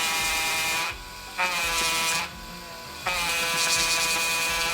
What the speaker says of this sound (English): drill also has a hammer, that means you have a hammer drill setting